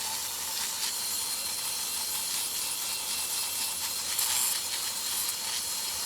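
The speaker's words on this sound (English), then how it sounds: "If you hear that little grinding, that's when these brushes kind of skip off the edge and catch the edge of the faceplate" Rotary wire brushes scour rust off the faceplate of a Singer 66 Red Eye sewing machine, a steady bright hissing scrape close up with a few slightly louder grinding surges.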